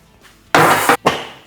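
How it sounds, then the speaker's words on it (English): Metal grill grate set back onto a kettle barbecue, two close, bright metallic clanks in quick succession with a brief ringing scrape, heard alone. "I'll carefully put the grill back in place"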